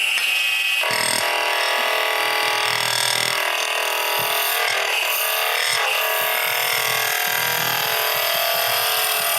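A skew chisel cuts very grainy wood spinning on a lathe, giving a loud, continuous rough scraping and rattling roar that runs close and unbroken throughout with no talking.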